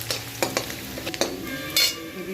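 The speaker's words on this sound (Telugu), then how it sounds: "ఇది బాగా ఫ్రై అవ్వాలి, బాగా కలర్ చేంజ్ అయ్యేది." Ginger, garlic, onion, capsicum and chilli fry in a pan with very little oil for chilli gobi, a soft sizzle broken by several sharp spatula scrapes and clacks in quick succession, close up and without speech.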